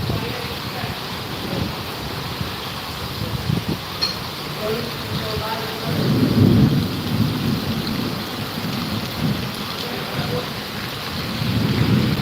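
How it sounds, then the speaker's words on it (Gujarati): Heavy rain pours steadily in Amreli during a storm while low rumbles of thunder roll in, swelling louder around the middle and again near the end, with faint voices underneath. "વીજળીના ધડાકા ધડાકા"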